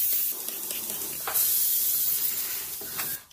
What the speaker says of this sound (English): Grab your rubbing alcohol, spray it in.